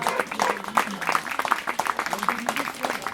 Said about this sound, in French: Je voudrais qu'on fasse un tonnerre d'applaudissements à François qui a imaginé cette journée.